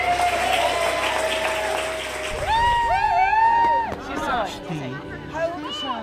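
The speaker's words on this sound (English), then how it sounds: "And if you want to give them a round of applause, that's fine." Wedding guests at Meldrum House applaud the couple, with steady clapping mixed with cheering, crowd chatter and bright whistles rising over the noise.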